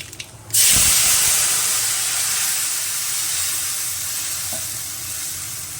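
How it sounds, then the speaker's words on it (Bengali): Black cumin seeds with mustard-poppy paste dropped into hot oil for pomfret curry: a sudden loud hiss bursts up and then slowly fades to a steady, softer sizzle, with one small clink near the end. "তেলের ভেতরে আমি কালো জিরেটা ফোড়ন দিয়ে দিলাম।"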